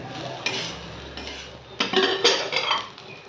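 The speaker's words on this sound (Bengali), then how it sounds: "এটাকে একটু নেড়ে চেড়ে আর নামিয়ে দেবো" A utensil scrapes and clatters against a pan in a few irregular bursts as neem leaves and eggplant are stirred, with faint sizzling between strokes.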